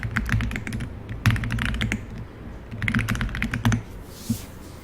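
Someone types on a computer keyboard while entering spreadsheet data in Excel, giving close, soft clusters of key taps in irregular bursts with short pauses between them, and no voices.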